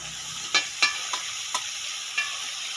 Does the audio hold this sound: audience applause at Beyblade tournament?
no